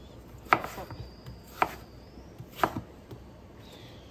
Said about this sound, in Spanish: vamos a empezar a cortar en cubitos chiquitos